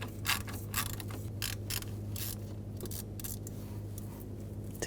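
Quiet clicking of a T30 socket ratchet removing a radiator screw on a 2011-2018 Volkswagen Jetta 2.0L, a series of short irregular ratcheting clicks over a low steady hum.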